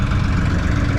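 Boat engine running hard at 9,000 revs on a river trip toward St Katharine Docks, a steady, loud, close mechanical drone that stays level throughout the brief moment.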